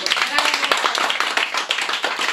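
Brief burst of dense clapping from an audience, loud and close, with quick irregular hand claps filling the whole moment.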